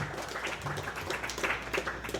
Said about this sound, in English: Guys, let's give John a round of applause, along with his his wife and new baby.